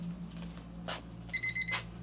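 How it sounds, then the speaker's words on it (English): A kitchen timer beeps in a quick run of short electronic chirps over a low steady hum, preceded by faint shuffling noises. "There's my timer."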